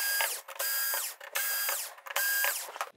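Screws being backed out of the LED driver board inside a TCL 55R625 television, a repeated ratcheting, whirring mechanical rasp in three close bursts separated by brief pauses.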